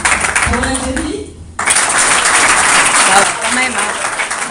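Audience at a French junior radiology olympiad applauding for the Algerian team; voices and clapping briefly dip, then a loud burst of steady applause carries through to the end.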